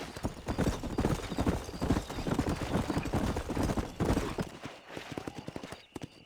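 A horse gallops in Red Dead Redemption, its rapid, continuous hoofbeats loud and close for several seconds, with a brief whinny in the mix and fading slightly toward the end.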